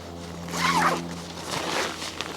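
A large zip on a thick, rugged nylon bag is pulled open in one long rasping run, then a rustle of fabric follows, close and clear over a faint steady hum.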